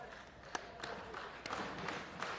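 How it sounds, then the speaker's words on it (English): Spectators at a cornhole world championship singles bracket clap faintly in the distance, a thin scattering of hands with a few sharper individual claps rising out of the crowd noise. "I'm clapping for the awkward knuckles, and everyone else started following me along."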